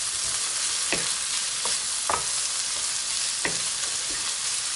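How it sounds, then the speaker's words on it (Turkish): Fresh local squid pieces stirred in a hot pan for a kokoreç-style dish, with a steady close sizzle broken by several distinct scraping stirs at irregular intervals. "kalamarları da bundan karıştırıyoruz"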